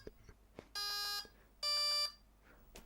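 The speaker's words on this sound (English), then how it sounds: "The motor driver does like a calibration. That was the beeping." An RC car's electronic motor driver sounds two clear, steady electronic beep tones during its power-on calibration, each lasting about half a second with a short gap between, over a quiet background.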